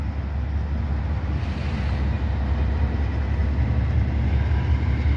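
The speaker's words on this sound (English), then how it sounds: "You can hear that DPU roaring" Norfolk Southern DPU locomotive mid-train in a heavy freight consist gives off a sustained deep engine roar mixed with rumbling railcars, loud and steady throughout without voices.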